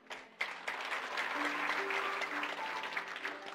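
Audience applause during a Christian sermon on love, a steady patter of clapping building after a sharp onset and sustained at moderate level throughout, with some tonal hum underneath.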